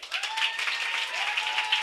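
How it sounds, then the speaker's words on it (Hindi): A church congregation applauds during a Sunday worship service, a brief, even wash of many hands clapping together at moderate distance, with a faint sustained tone running underneath. "आज ताली अच्छा बजनी चाहिए।"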